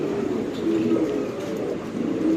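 A female racing pigeon coos in a low, steady, continuous murmur close by for a couple of seconds.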